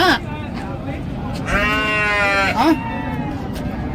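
A goat bleats once in a drawn-out, wavering cry near the middle, heard over steady background noise with brief vocal sounds before and after.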